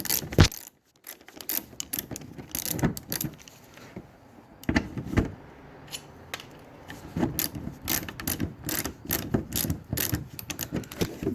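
Rapid ratchet clicking in uneven bursts with short pauses, loud and close, as a tool loosens screws to reach the windshield washer pump of a 2012 Toyota Camry.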